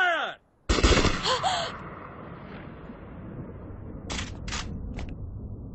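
A loud, sharp volley of gunfire from a firing squad bursts out after a brief silence, then fades into a long rumbling echo, followed later by a few shorter distant cracks.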